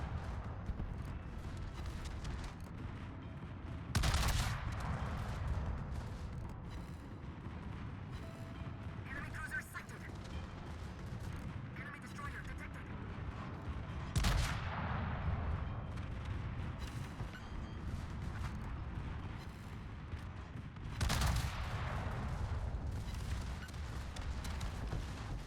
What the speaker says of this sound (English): you'll see me focusing on the destroyers first with both my main and secondary guns